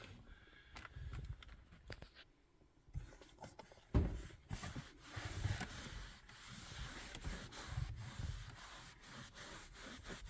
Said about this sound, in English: So the dash over here, as you can see, it's quite dusty.